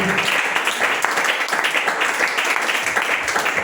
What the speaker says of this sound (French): Sous vos acclamations. Acclamons Jésus, acclamons Jésus.